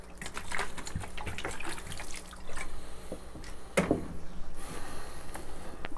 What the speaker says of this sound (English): I'm just going to put a little bit more water in.